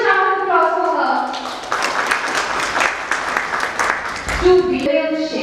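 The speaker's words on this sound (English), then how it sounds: "A huge round of applause for her." An audience at a book release event breaks into sustained applause, many hands clapping loudly, with a voice speaking before and after the clapping.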